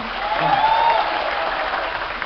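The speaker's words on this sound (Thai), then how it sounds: "ขอเสียงปรบมือคนอีสานทุกคนครับผม" A crowd at a success-story event claps together for people from Isan, a loud, dense, continuous round of applause that stays even throughout with no speech on top.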